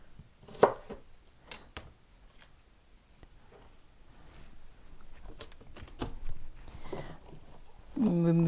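A knife cuts green onion on a cutting board in a steady run of close, crisp taps, and a voice speaks briefly near the end.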